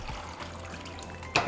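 Water trickles and pours into a saucepan over tomatoes and chiles, a quiet, short liquid splash ending in a brief louder burst.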